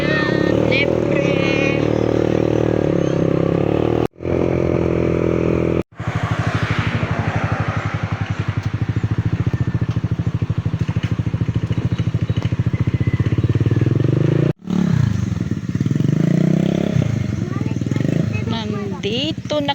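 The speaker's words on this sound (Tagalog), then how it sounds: "Ganun ang tunog ng tambutso." A motorcycle with a loud, freshly repaired exhaust rumbles nearby and rides past on a street, its throaty engine note rising and holding, broken by brief gaps, with people talking over it.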